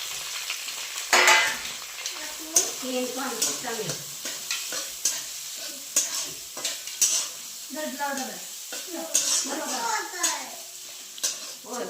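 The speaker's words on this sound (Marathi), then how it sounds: "लसूण कांदा टाकला कांदा चांगला भाजून घ्यायचा" Onion and garlic fry in a pan with a steady crackling sizzle, while a spatula stirs and scrapes in repeated strokes, close up, and a voice speaks briefly now and then.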